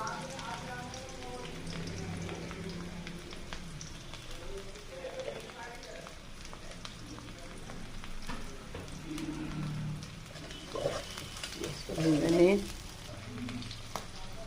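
Chopped onion sizzles and crackles in hot oil in a pan while fish is cooked with tomato, a steady close frying hiss with stirring scrapes, under occasional low speech.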